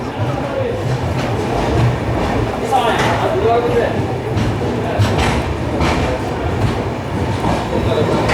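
Hampi Express passenger train rolling into Guntakal junction, a steady loud rumble of wheels and carriages with faint rhythmic clatter and occasional squeal, continuous throughout with indistinct voices in the background.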